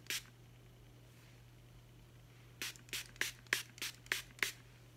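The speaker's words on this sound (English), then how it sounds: "we're gonna just spray it and call it a day" Setting mist sprayed onto a face during a makeup routine: seven quick, close, hissing spray bursts in a fast irregular run after a quiet stretch, with a steady low hum underneath.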